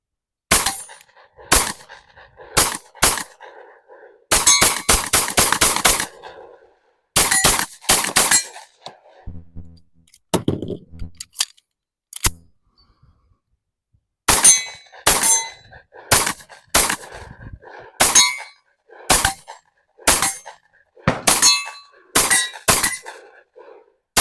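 An Ermox XFire Defense 500-round gun firing in sharp, loud, close reports, some single and some in rapid clusters, with short quiet gaps between strings of shots and occasional ringing metallic clinks.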